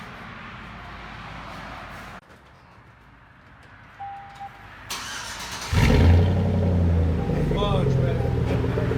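A 2004 Chevy Silverado 4.8 V8 with dual straight-pipe exhaust starts up and settles into a loud, rumbling idle that follows quieter background noise, with people talking nearby.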